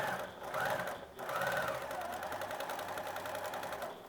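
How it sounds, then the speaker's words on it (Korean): Sewing machine stitching the folded top edge of a fabric card pouch made from scrap cloth, a close, steady rapid whirring run with a brief pause near the start, no talking. "요 윗부분을 1cm 정도 눌러서 3개 다 봉제를 해주세요."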